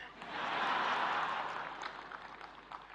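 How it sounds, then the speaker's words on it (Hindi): Men in the audience at a public speech applaud, a dense burst of clapping that rises quickly, holds for about a second, then thins out into scattered claps. "मैं देख रहा हूं पहली बार पुरुष ताली बजा रहे हैं"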